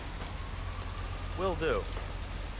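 Steady rain falls in the Hitman 3 game world, a constant wash of hiss throughout, with a brief spoken reply over it.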